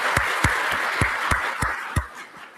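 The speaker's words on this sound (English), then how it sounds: "Let's give those guys a round of applause." An audience at a political rally gives a round of applause for military veterans, heard as a brief, loose patter of separate claps at moderate distance.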